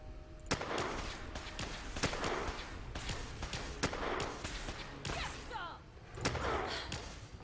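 A Schofield No.2 revolver fired in Fallout 4, with single sharp shots spaced a second or so apart, thin with little bass, under steady talk.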